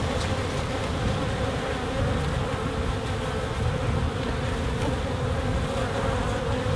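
Honey bees from a wild colony cutout humming in a dense, continuous swarm buzz, close and steady throughout with no voices.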